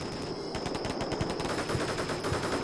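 Sustained automatic machine gun fire from BTR armoured vehicles and American troops in the wargame Combat Mission Shock Force during an airport assault, dense rapid bursts rattling continuously at moderate distance over a steady battle din.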